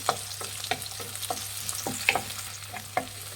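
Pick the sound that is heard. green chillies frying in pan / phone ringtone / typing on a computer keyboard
green chillies frying in pan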